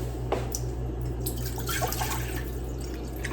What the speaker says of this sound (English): 2 cups of water in there.